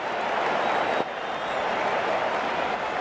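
Crowd in a cricket video game of an IPL T20 match between Sunrisers Hyderabad and Kings XI Punjab, a steady loud wash of cheering and applause lasting the whole stretch, with no voices standing out.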